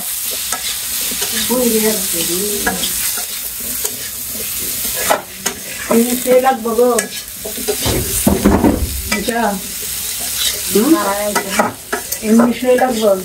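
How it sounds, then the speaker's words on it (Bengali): A spatula scrapes and stirs curry frying in a pan, the sizzle constant and loud, with strokes clattering unevenly throughout and voices talking intermittently over the cooking. "পুড়ে গেল গা তরকারি খন্তি মারো"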